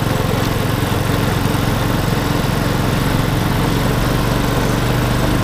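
A motorbike engine runs continuously at close range, a loud, steady buzzing drone with no breaks or changes in pace.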